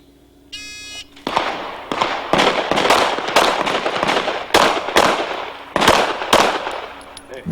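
Rapid pistol fire at an IDPA shooting stage with close targets, a sharp beep starting the run followed by a fast, loud string of shots in quick clusters, ringing across an outdoor range.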